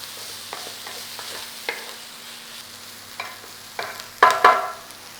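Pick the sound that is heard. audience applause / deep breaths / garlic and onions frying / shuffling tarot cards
garlic and onions frying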